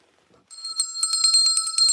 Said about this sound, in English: We will ring this bell.